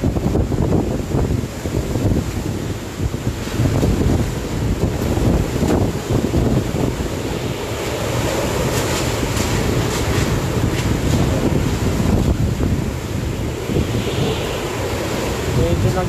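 Strong typhoon wind from Super Typhoon Goni roars steadily and loudly, buffeting the microphone in an unbroken gusty rush with a deep rumbling undertone.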